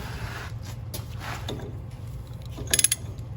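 Hand tool turning to tighten a wheel seal on a tractor-trailer hub, heard as scattered metallic clicks and ratcheting scrapes over a low hum, with a quick burst of sharp ticks near the end.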